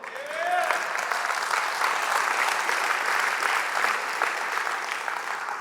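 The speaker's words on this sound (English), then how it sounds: "Now, you clap." An audience at a men's Christian conference breaks into steady, full applause that swells quickly and holds, with a brief vocal whoop at the start.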